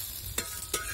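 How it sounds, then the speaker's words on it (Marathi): Whole spice masala dry-roasting in a pan, a steady faint hiss with two brief scraping stir strokes, no talking. "तर मसाला थोडासा भाजून घेतला"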